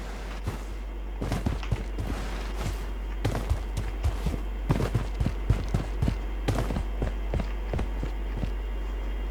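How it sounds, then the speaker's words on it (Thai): Footsteps thud in an irregular run of quick, sharp taps in the online shooter BloodStrike, moderately close over a low steady hum, with no voices. "มีเสียงเท้ามานะเราวางป้อมเลย"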